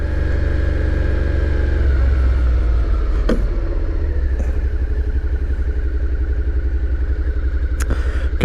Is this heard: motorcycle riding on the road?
yes